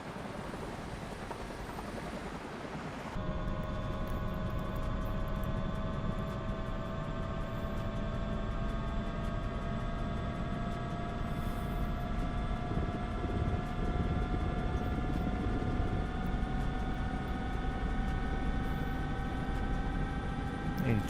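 A helicopter's rotor winds up to speed, a loud broadband roar with a rising turbine whine and several steady tones building after a sharp jump in level, sustained for about twenty seconds.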